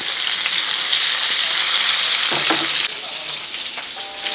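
Okra masala sizzling loudly in a pan, a bright steady hiss with a few spoon knocks as the pieces are turned and stirred, the frying dropping slightly in intensity partway through.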